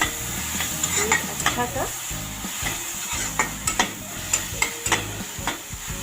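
Vegetables for veg cheese pasta sauté in a pan with a steady close sizzle, punctuated by repeated scraping and clinking stirs of a spoon against the pan, with a few brief spoken words.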